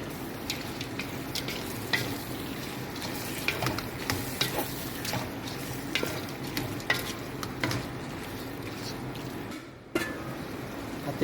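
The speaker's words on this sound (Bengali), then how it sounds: "মাছ দিতেছি" Fish frying in a pan of hot oil with bay leaves and slit green chilies gives a steady, close sizzle, with stirring and occasional metallic clinks and a brief dip near the end.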